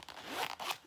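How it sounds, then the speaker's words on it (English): A zipper on a secondhand bag bought at a thrift store is pulled open in two quick, close ripping strokes, clear and unaccompanied by talk. "Just look how it opens, and then it has a separate zipper right here."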